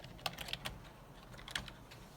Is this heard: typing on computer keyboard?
yes